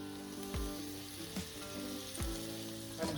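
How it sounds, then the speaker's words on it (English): Ground beef burger patties frying in a pan give off a steady, close sizzle and crackle, broken by a few low thumps from a spatula or pan at irregular intervals, with no voices. "then we're gonna form and cook some patties"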